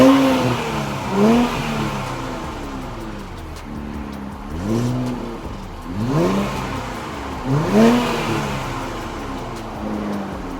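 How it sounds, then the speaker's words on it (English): A 2019 Infiniti Q60 Red Sport 400 engine revs repeatedly at idle. Each rev climbs sharply in pitch and falls back, with three or four bursts spread over a steady idle. It is close and fairly loud, with no speech. "To start up the 2019 Q60 Red Sport, you just put your foot on the brake, tap this button right here."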